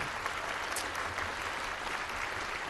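An audience at a town community information meeting in Paradise claps in a steady, even round of applause that fills the room throughout without a break.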